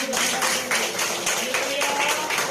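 A church congregation claps in a steady rhythm throughout a worship service, the claps close and fairly loud, with voices and tonal sound running underneath.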